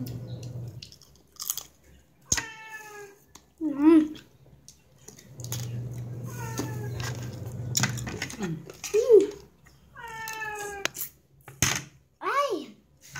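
A pet cat meows several times in the background of a home kitchen during cooking, its short rising-and-falling cries spread through the clip amid chewing, dish clatter and people talking.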